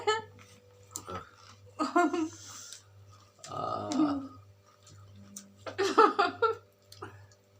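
Someone chewing chowmein, with bursts of wet, smacking mastication close to the mic between pauses and some vocal sounds mixed in.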